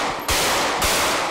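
Beretta pistol shots in GTA 5 roleplay ring out as two sharp, loud reports about half a second apart, each a sudden broadband crack with a short decaying tail, no voices over them.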